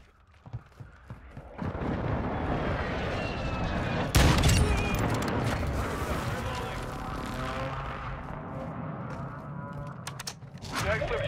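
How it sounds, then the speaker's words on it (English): Friendly airstrike in Call of Duty MW2 multiplayer, with a rolling series of heavy explosions and crackling gunfire building up, a big close blast around the middle, and a player's voice talking over the noise. "Friendly airstrike in the AO."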